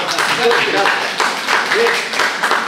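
Brief applause rises for a folk storyteller at a regional storytelling contest, short and fairly light, heard beneath someone speaking into a microphone.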